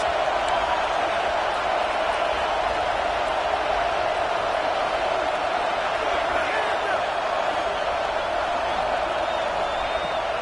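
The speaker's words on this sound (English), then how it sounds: "Listen to this crowd just shaking the girders of this place trying to help their defense." A football stadium crowd roars in a steady wash of cheering that rises to shake the stands as fans try to help their defense, while a commentator talks over it throughout.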